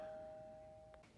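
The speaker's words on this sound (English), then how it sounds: "I don't know if you heard my doorbell ring," A doorbell gives a single faint, sustained electronic ding with a slowly fading tone and a brief second chime at the end, heard alone in a quiet room.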